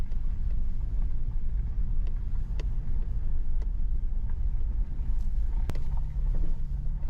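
A car driving up a washboard game lands road on a mountain climb, giving a constant low rumble of engine and road noise with a few faint ticks and rattles over it.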